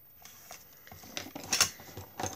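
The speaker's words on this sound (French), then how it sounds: "On va venir donc couper tout ça." Scissors snip through a paper tea pouch in a series of short, crisp cuts with small clicks and rustles, growing louder toward the end, close by and without talk.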